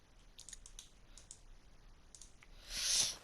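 Quiet computer keyboard keys click in scattered bursts during a Minecraft session, faint and close, with no talking.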